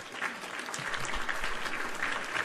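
A canned applause sound effect plays during a livestream of online slot or casino-style gambling, a steady burst of many hands clapping at moderate volume throughout.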